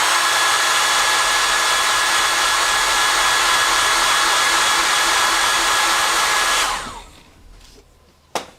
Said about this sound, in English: I'm gonna use the blow dryer in 3